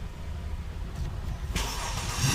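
A car engine starts and settles into a steady running hum, close and moderately loud, its sound growing fuller toward the end.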